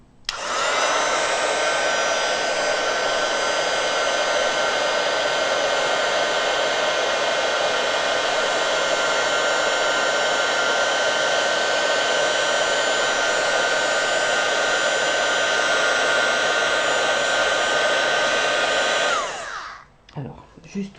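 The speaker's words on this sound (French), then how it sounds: "Je prends le fer, le pistolet à chauffer et je vais donc embosser, faire cuire ma poudre." A heat gun melts embossing powder on a handmade card, giving a loud, steady, close blowing roar that runs unbroken for about nineteen seconds before cutting off abruptly.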